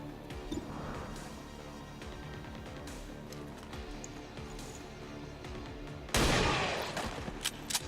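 Soldiers shooting in XCOM 2, with a run of quiet, rapid gunshots giving way to a sudden loud, crashing burst near the end.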